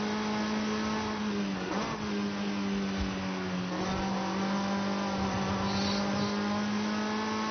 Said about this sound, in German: Der Motor hat auch einen ganz eigenen Sound hier.